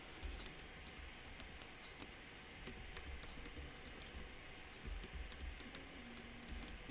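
Typing on a newly built Cannonkeys Atlas mechanical keyboard: a steady patter of close key clicks with occasional sharper strikes, heard alone with no voices.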